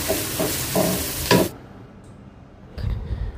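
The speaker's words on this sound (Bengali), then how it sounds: "আমি এখন সবজিটা বাগার দেব" Vegetables being tempered in hot oil with dried red chili, green chili and onion, giving a loud sizzling fry with bursts of stirring, a brief drop to a quieter hiss, then another surge of frying.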